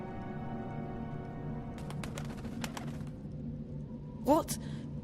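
A bird character in the Dreamfall video game gives a brief, rising warbling coo near the end, loud over steady ambient game music and background sounds, following faint chirps earlier in the scene.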